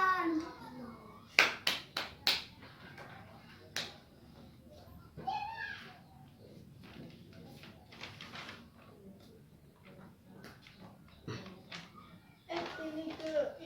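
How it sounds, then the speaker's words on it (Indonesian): Scattered hand claps from children in a classroom, a few sharp claps standing out among soft chatter and movement, with kids talking throughout. "Tepuk tangan."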